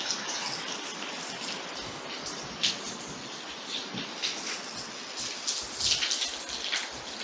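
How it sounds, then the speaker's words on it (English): Heavy rain pours in a dense, steady outdoor hiss with scattered louder splashes throughout, no voices over it. "Heavy rain, and it just moved right straight up to us."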